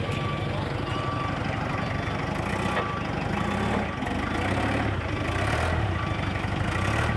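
A forklift engine runs steadily at idle after being started for testing a newly built grabber, a constant low rumble that stays loud and close throughout with no pauses.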